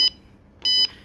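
An electronic buzzer gives two short, shrill beeps when its button is pressed, the second beep longer, with quiet between them.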